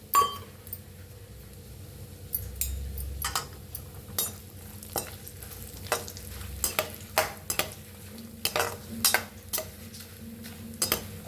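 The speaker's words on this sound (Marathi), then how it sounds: "खोबरं बी आपण तळून घेऊया" Dried coconut pieces fry in hot oil with a soft, steady sizzle, while a spoon stirs and scrapes the pan in repeated sharp clinks close by.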